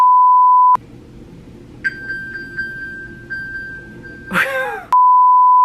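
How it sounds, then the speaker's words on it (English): An iPhone plays its ping alert, triggered remotely from an Apple Watch SE: a series of repeated high electronic chimes pulsing for a few seconds, ending in a brighter swelling tone, set between steady test-tone beeps. "it does have this ping your phone option"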